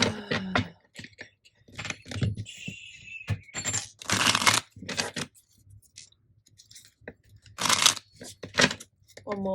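Major Arcana tarot cards are shuffled in quick, crisp bursts of riffling and tapping, broken by pauses, with someone speaking between and over the bursts.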